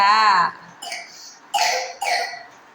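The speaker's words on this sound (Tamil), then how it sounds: "இப்போ இருமல் வருது, சளி பிடிச்சிக்கிச்சு" A child with a cold makes a brief vocal sound and then gives two short, harsh coughs, close and fairly loud.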